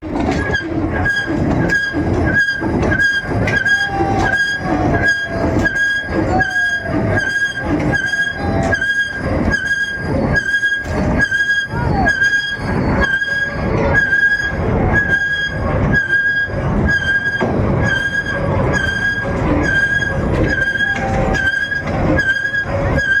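A long coal train hauled by an electric locomotive rolls past close by, wheels clacking in a steady rhythm over rail joints, with metallic squeals and a constant mechanical hum.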